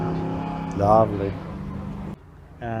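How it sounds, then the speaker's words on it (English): A red Mark III Ford Escort races into the chicane at Goodwood Motor Circuit. Its engine note rises and falls from mid-distance with a brief rev surge, under a commentator's steady voice. "And into the chicane comes the red Povo Spec Mark III Escort, right on the limits of adhesion."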